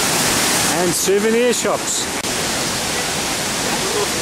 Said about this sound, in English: they've got a running river